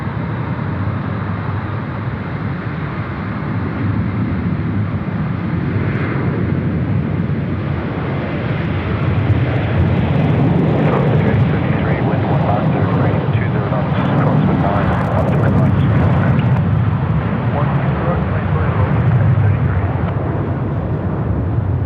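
A Qantas A321XLR departs Sydney Airport with a loud, broad jet engine roar that swells as it climbs away. Voices of people speaking carry over the noise.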